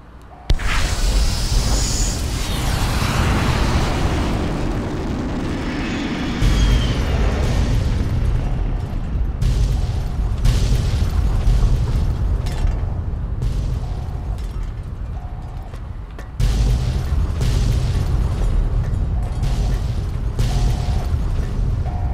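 Massive nuclear warhead blasts tearing through the Divide in Fallout: New Vegas, a long sustained roar of booming explosions that surges again around the midpoint and near the end, loud and continuous, with no talking.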